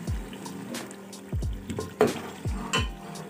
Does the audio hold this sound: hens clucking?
no